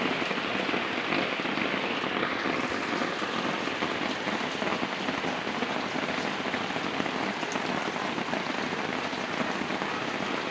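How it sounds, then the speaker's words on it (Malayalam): Rain falls steadily on surfaces outdoors, a dense even hiss that holds constant throughout, fairly close, with no voices. "മഴ പെയ്യട്ടെ"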